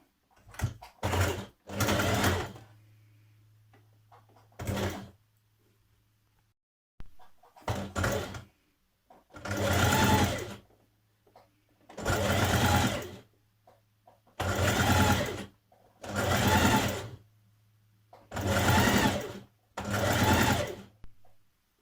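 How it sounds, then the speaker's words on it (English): A sewing machine stitches pocket binding onto a skirt in repeated bursts of fast, close mechanical whirring, each lasting a second or two, separated by short pauses. "you're going to stitch it to the right side of your skirt with a 1 centimetre seam"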